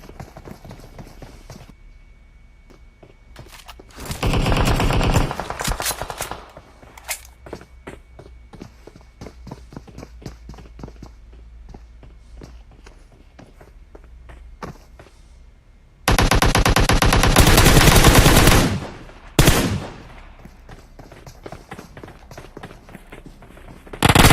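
Bursts of automatic gunfire in the mobile battle-royale game PUBG Mobile, with two dense, loud volleys separated by quieter in-game footsteps and ambient clatter, including a sustained burst of several seconds.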